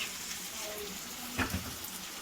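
Curry sautéing in a pan gives a steady, low sizzle throughout, with a couple of brief scraping stirs near the middle, fairly quiet and without speech.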